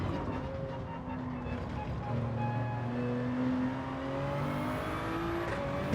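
A Toyota Supra's engine in the Gran Turismo 7 racing game, revving and shifting with tones that rise and drop across gear changes, steady and fairly quiet in the background.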